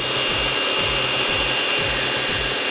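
A battery-powered buffer spreads Flitz polish across plexiglass with a steady, close, loud motor whir, with a faint pulsing wobble in its drone and no talking.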